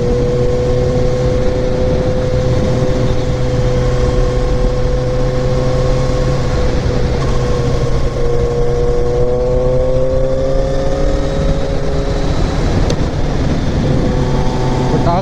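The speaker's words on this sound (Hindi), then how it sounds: "इसमें फुल सिस्टम एग्जॉस्ट लगा हुआ है, शॉर्ट कैन।" A sport motorcycle with a short-can full-system exhaust idles and revs with a deep, throaty exhaust drone, rising and falling in pitch, close by and steady throughout.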